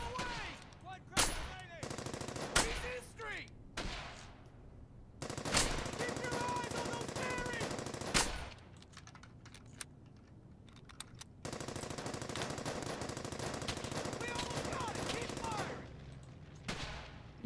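Machine gun fire in the war video game Brothers in Arms: Hell's Highway, heard as repeated loud rapid bursts of automatic shooting with brief pauses between them, plus scattered single shots and battle noise.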